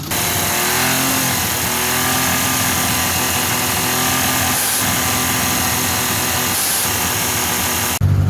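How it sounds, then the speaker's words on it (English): Green Turbo kei car engine idling steadily after a valve adjustment, a continuous loud running drone with a fast light clicky tick from the valvetrain throughout. "clicky clacky valve noise now, which it sounds healthy"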